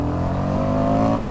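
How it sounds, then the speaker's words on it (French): An Indian FTR 1200S Race Replica motorcycle accelerates briefly, giving a loud, steady engine drone that rises slightly in pitch and then eases off at the end. "Petite accélération pour voir."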